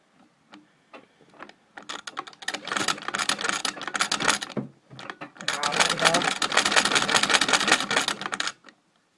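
A Singer treadle sewing machine runs in bursts of rapid mechanical clatter, stopping briefly and starting again, with a quick regular stitching rhythm close by.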